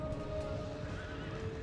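A horse neighs amid a battle in the game Empire Total War, with hoof clatter and a steady background battle rumble, loud and clear with no talk over it.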